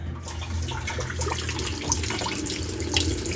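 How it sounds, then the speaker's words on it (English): Steady rush of water pouring into a Whirlpool direct drive washing machine as it fills with hot water, continuous and fairly loud, with no voices over it. "I'm thinking the hot water might warm up"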